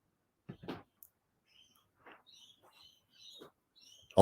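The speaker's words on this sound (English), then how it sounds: "I don't know if you can hear all the birds squawking outside." Outdoor birds call in short, sparse chirps and squawks, faint and somewhat distant, scattered across a few seconds of otherwise quiet room tone, ending with a sudden nearby knock.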